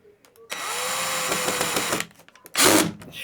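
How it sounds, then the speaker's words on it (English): A power drill drives screws into the back piece of a CSerpents snake rack, a steady whining run of about a second and a half, then a shorter loud burst, close and with no talk. "I am going to screw this one on."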